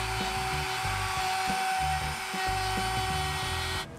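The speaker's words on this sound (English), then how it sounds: "I got it set so that the blade is just gonna cut the plastic and nothing else" A power saw blade slices through the plastic of a 2018 Dodge Ram truck bumper, a steady whining drone with a rhythmic low chatter that dips briefly midway and cuts off near the end.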